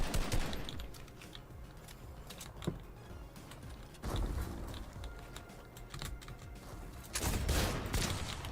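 Bursts of AR rifle fire in Fortnite come in clusters of rapid sharp cracks, with quieter stretches of clicking and movement between the volleys.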